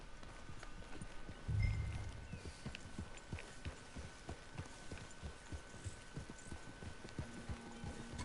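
Steady, regular hoof clip-clops of a horse at a walking pace in the video game Red Dead Redemption 2, soft and close under a low hum, with no voices.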